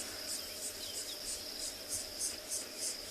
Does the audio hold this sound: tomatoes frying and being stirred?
no